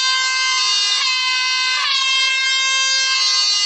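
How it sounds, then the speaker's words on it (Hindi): A loud, sustained air horn signalling play resumption at an Olympic golf final round blares steadily for several seconds, its tone wavering slightly twice, with no voices over it. "चलिए हॉर्न तो कर गया है साउंड रिजम्पशन के लिए"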